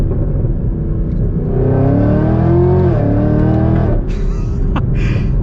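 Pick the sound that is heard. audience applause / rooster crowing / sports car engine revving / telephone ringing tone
sports car engine revving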